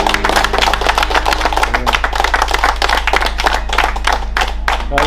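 A round of applause from a gathered group in Trench Town, Kingston, loud, close and dense, with rapid overlapping claps sustained through the whole stretch over a low steady hum.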